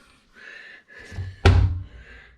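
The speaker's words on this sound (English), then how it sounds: "self-closing cabinet" A self-closing cabinet door in the kitchen of a tiny house swings with a short creak, then shuts with one solid thunk up close, followed by a faint settling rattle.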